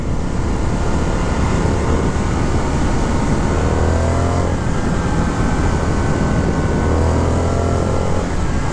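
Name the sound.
motorcycle engine running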